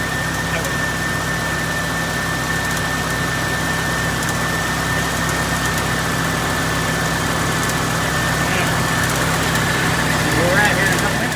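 A 1988 Chevrolet Corvette engine idles steadily and fairly loud, a constant low rumble with a faint whine running throughout, while a person speaks over it.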